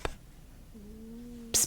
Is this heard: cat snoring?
yes